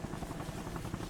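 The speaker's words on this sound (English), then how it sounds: "here comes the enemy helicopter" An enemy helicopter in the video game Arma Reforger gives a loud, steady rotor thrum with a fast pulsing beat, close and continuous through a brief moment.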